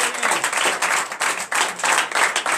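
A church congregation at a night deliverance service applauds in loud, pulsing bursts, many hands clapping together in waves that rise and dip rhythmically.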